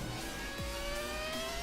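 Ferrari F2004 V10 engine in the F1 2017 racing game, a high-pitched steady wail with rising harmonic tones, continuous and fairly faint throughout.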